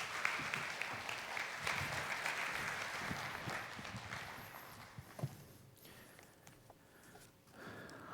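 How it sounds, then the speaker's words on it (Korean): A church congregation at a Sunday worship service applauds to welcome the pastor, a broad wash of clapping that swells early, then thins and fades out by the end. "우리 목사님 나오실 때 환영의 박수 또 보내주신 우리 하나님께 감사의 박수 드리겠습니다"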